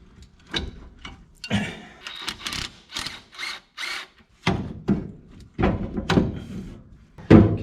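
A bolt is worked out of the clutch shaft clamp on a 1970 International Loadstar truck, short bursts of tool whirring and metallic clunks come in spurts with pauses between them, close and fairly loud.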